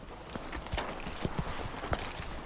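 Horse hooves clip-clop in a film, a steady walking beat of sharp knocks under a faint background, with a few louder hoof strikes standing out.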